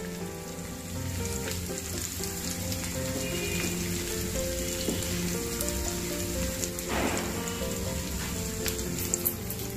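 Muthiya dumplings frying in a pan with one side left to brown, giving a steady, close sizzle that runs unbroken throughout with no talking.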